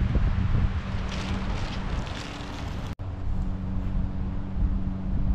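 Wind gusting at a campsite, a steady rushing roar buffeting the microphone with low rumbles, continuous and close for the whole stretch, with one brief dropout midway.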